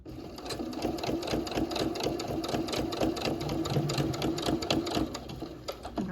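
A sewing machine stitches around a fabric face mask with a steady, fast, even whirring rhythm that runs continuously at close range without talk.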